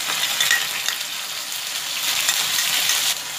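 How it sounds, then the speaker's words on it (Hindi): Ground masala paste with raw onion fries in a pan for lauki kofta curry, a steady close sizzle with a soft, constant crackle that holds throughout, no talk. "देखिए मेरा पीसा मसाला भून गया अच्छे से"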